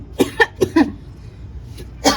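A woman coughs several times after handling chili peppers while planting outdoors: a cluster of four short, close coughs, a pause, then one more cough.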